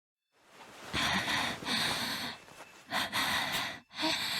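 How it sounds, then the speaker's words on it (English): Panting sound effect from the video game Chaos;Child: close, breathy gasps repeated in uneven bursts, fairly loud and alone. "I heard panting in my ear."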